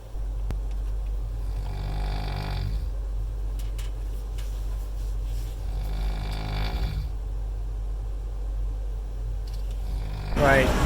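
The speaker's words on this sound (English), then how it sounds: "That guy in the hostel is just snoring super loud" A man snores loudly in a hostel at night, with long rasping breaths recurring in slow cycles about every four seconds over a steady low hum.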